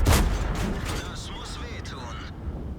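A Tiger (P) tank fires its cannon in World of Tanks. A single heavy, booming shot opens the moment, followed by mechanical rumble and clanks, with someone talking over it.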